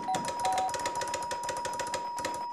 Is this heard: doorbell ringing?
yes